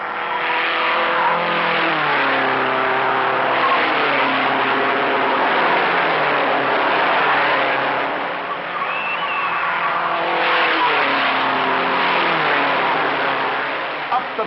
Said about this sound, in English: The lap speed moves to 142 miles an hour, with 3 cars maneuvering through the turn inches apart.